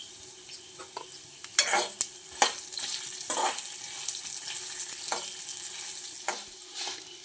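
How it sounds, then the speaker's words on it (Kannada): Curry leaves and asafoetida fry in oil for mango sambar, a steady sizzle broken by repeated clinks and scrapes of a spoon stirring in the pan. "ಈಗ ಇದನ್ನು ಫ್ರೈ ಮಾಡಿಕೊಳ್ಳುವ. ಇದಕ್ಕೆ ಸ್ವಲ್ಪ ಹಿಂಗ ಹಾಕ್ಕೊಳ್ತೇನೆ."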